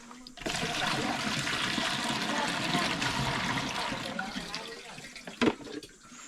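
Water drawn from a village well in rural Samar, Philippines, splashing and pouring steadily at close range for several seconds, with a brief knock near the end before it tapers off.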